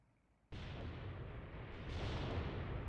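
Soviet artillery fire in the WWII game Mius Front opens with a sudden heavy blast, then a loud, sustained rumbling roar of shelling that swells toward the end.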